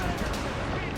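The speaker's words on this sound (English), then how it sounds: "Keep out of her cannon range!" A dense, booming roar of ship cannon fire in the game Assassin's Creed Rogue, heavy and continuous, with sharp blasts layered over a rumbling low end.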